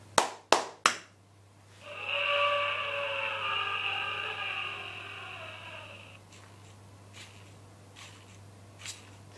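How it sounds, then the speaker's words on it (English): Three sharp hand claps in quick succession command a 3D-printed robotic mammoth toy, followed by a sustained electronic whine or roar from the toy for several seconds, then faint tapping. "let's try three claps"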